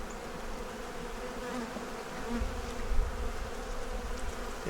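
Honey bees hum and buzz continuously around an open five-frame hive whose blue queen is missing, a dense close drone with occasional louder passes and light handling noises.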